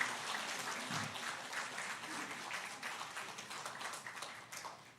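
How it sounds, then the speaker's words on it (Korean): Congregation applauding at a Christmas Day church service in Sokcho, a steady spread of clapping throughout with a brief low murmur near the start. "한 번 더 박수로 축하해 주시고"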